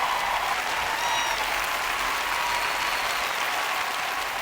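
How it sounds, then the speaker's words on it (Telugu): An audience claps together in a steady, dense wash of applause that holds at an even level for a few seconds, with no voices rising above it. "చప్పట్లు కొడితే మనస్ఫూర్తిగా కొట్టండి"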